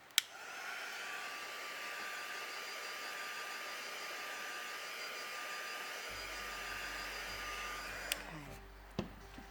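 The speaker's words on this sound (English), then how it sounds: "Let's give those a little bit of a dry with our heat gun, just so they don't smudge" A heat gun blows a steady, even whoosh with a high whine as it dries ink on paper, close and constant for about eight seconds before it cuts off with a few handling clicks.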